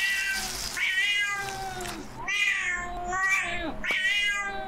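A cat in a home invasion horror video game meows repeatedly, with four or five drawn-out, rising and falling cries at a steady pace. The sound is close and loud, and there is no talk.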